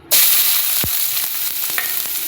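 Finely chopped onions, three of them, frying in hot oil for stuffed brinjal: a steady close sizzle starts abruptly and holds, with faint stirring scrapes and clicks over it.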